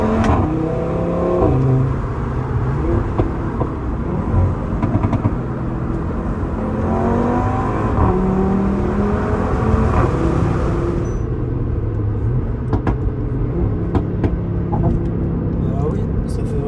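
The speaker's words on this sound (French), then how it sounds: "Ça c'est du bruit de RS3." Audi RS3 engine in Dubai revs loudly and continuously up close, with a rough, throaty growl that surges and drops across the whole stretch, while voices can be heard underneath.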